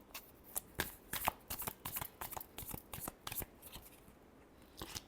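Tarot cards being shuffled by hand during a reading, a quick run of crisp, papery riffles and flicks in irregular bursts, close and clear with no talking, tapering off near the end.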